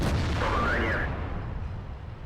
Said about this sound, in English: Did we just bounce on a Stuart Emil?